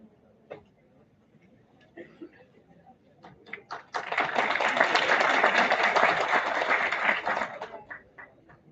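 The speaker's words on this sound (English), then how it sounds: "Let's have a huge round of applause for Vishal Mavi sir" An audience at a multidisciplinary international conference held at a college claps for an honoree. After a few scattered knocks it swells into about three seconds of dense, steady applause, then cuts off abruptly, with no talk over it.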